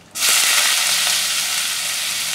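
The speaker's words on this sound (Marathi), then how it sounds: "आणि आता यात घालूया कांदा." Onion hits hot oil already seasoned with cumin, mustard seeds and curry leaves, setting off a sudden loud hiss that stays as a steady close sizzle.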